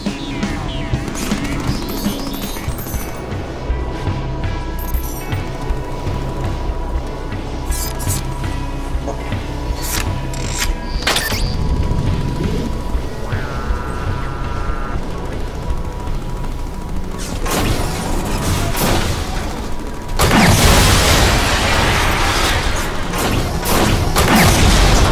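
Sentinel Arm Cannon weapon fire in the Deadpool video game, heavy booming blasts and rapid gunfire-like bursts repeating across a dense game soundtrack, loud and continuous with a big crash near the end.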